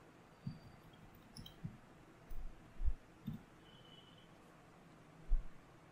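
A computer mouse gives a handful of soft, separate clicks, including a close pair, during a Python programming lecture. The clicks are quiet over a low room hiss, with no talking.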